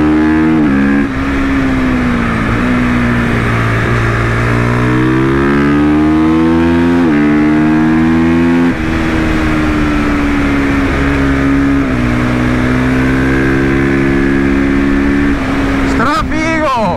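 Loud motorcycle engines rev hard again and again, pitch climbing and dropping in repeated surges, close by and continuous.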